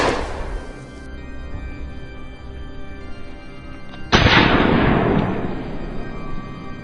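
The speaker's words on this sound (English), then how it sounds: "A barrage of gunfire rang out, each shot tracking the beast's every stride." A sharp, loud gunshot blast bursts out after a few seconds of low rumbling background, followed by a long, echoing roar that slowly fades, as shots are fired at fleeing wild boars on a farm.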